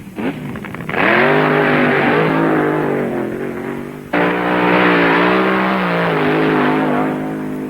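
Funny Car drag racing engines roar at full power, one screaming run followed abruptly by a second, loud and continuous with a harsh rasping edge.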